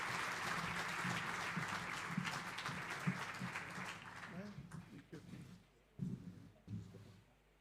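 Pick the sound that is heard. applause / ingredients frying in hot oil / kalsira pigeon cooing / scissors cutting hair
applause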